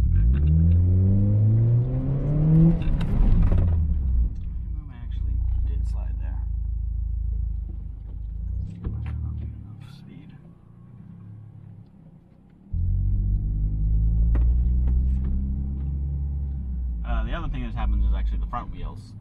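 A car engine rumbles and revs as it accelerates hard during a street demonstration of high-performance driving, surging loud then easing off, while a person keeps talking over it.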